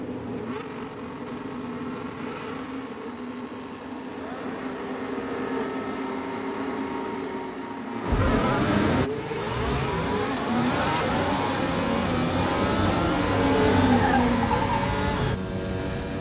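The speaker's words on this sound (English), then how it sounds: "what all the cars sound like as they take off." F1 race cars in a film sound mix pulling away from the start, a layered engine drone that suddenly surges into rising, overlapping revving whines as several cars accelerate hard together.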